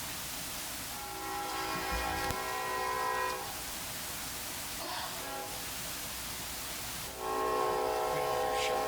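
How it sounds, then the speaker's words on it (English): A train passes near a meeting room, its horn sounding in long steady blasts that swell at the start and again near the end over continuous rail rumble, with no talk. "we'll wait for the train."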